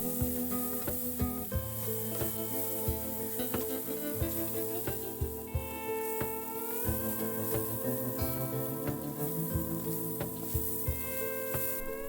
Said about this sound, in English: Fry for another minute.